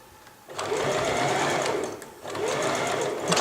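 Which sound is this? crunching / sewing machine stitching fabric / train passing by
sewing machine stitching fabric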